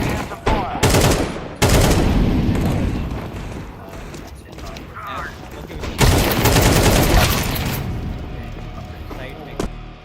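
Counter-Strike 2 gunfire in bursts of rapid shots, loud and dense near the start and again around the middle, with talk over the shooting.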